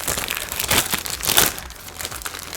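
Crinkly plastic packaging pouch being handled and opened, a close rustle of crackling bursts over about two and a half seconds.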